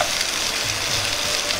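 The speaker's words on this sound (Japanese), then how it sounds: "箸で焦げないようにゆっくりと混ぜながら炒めます。" Chopped vegetables stir-fry in a frying pan, stirred slowly with chopsticks, giving a steady, close, dense sizzle that holds evenly throughout with no voices.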